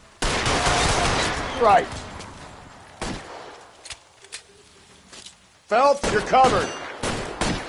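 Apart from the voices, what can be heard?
suppression gunfire in video game L.A. Noire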